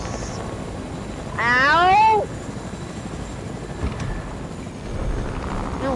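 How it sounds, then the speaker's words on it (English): A helicopter rotor drones steadily in a Fortnite match, a low continuous chop under the whole stretch, with a player's voice and a brief meow-like game sound over it. "Oh my god, I hate helicopters."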